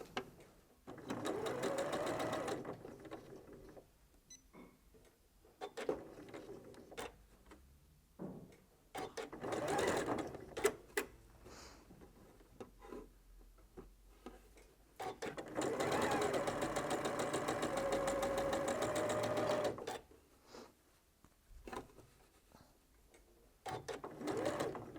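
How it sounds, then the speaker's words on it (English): Domestic sewing machine stitching scrap quilt pieces for a nine-patch block in steady whirring runs, several separate bursts of different lengths with brief pauses and handling clicks between them, close and moderately loud. "Stack those up in order and let's go and sew."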